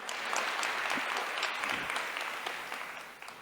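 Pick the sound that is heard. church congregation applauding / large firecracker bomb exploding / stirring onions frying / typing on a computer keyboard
church congregation applauding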